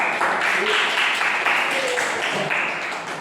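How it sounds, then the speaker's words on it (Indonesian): Classroom applause for student groups after their presentations, a dense steady patter of many hands clapping throughout, fading slightly toward the end. "tepuk tangan untuk kelompok 1, 2, 3, dan 4"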